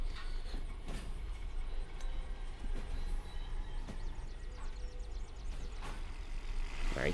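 Rolling train in the Derail Valley video game, a steady low rumble with faint clicking of wheels over rail joints, continuous and moderately near with no voices.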